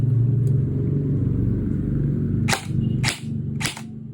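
An E&C DDM4 PDW airsoft gun fires three short, sharp bursts close by near the end, following a few seconds of low rumbling background noise.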